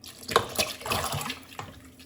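Three cups of water poured into a cooking pot while rinsing out a can for red lentil dahl give an uneven, quiet sloshing pour with small splashes over two seconds.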